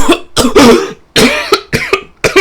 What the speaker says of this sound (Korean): 기침 소리를 들은 것 같은데 당신이요?